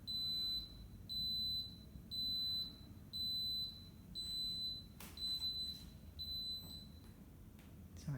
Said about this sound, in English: Excuse the Instapot.